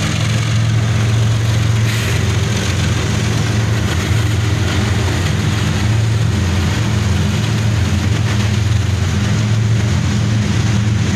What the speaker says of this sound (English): About halfway through the train and we have a DPU, an ES-44 AC, working hard.